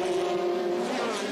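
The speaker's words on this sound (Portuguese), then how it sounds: "Está aí a passagem do carro de número 16 do Freitas" A Formula Renault race car, 2005 season, screams past on the Salvador street circuit with a loud, steady high-pitched engine whine that holds close and strong throughout.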